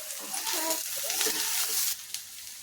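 Semolina (suji) donuts frying with masala in a pan, producing a close, steady hiss of sizzling with a few stirring scrapes, while a voice speaks briefly over it.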